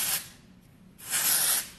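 Two long hissing bursts of texture spray are aimed at hair from a distance in a salon, steady airy blasts separated by a short quiet pause.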